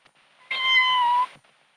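A cat on a rabbit farm gives a single clear, drawn-out meow lasting under a second, close and alone against near silence.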